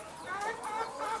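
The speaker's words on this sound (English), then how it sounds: "I've never held a chicken like this in my entire life" Chicken clucking on a farm while someone holds it, a run of close, moderately loud clucks and murmurs over about a second, with faint human sound in the background.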